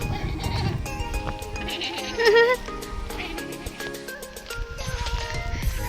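Sheep bleat a few times amid a lively outdoor backdrop near the Seven Sisters cliffs, with people talking and faint clip-clop sounds in the mix.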